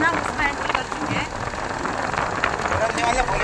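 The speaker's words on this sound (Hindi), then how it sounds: "यहाँ पे हवा इतनी तेज़ है कि मैं क्या बोल रही थी क्लियर सुनाई नहीं आ रहा था" Strong wind buffets the microphone on a hilly road toward Bhoramdev near Kawardha, a dense continuous roar and rumble that drowns out a voice.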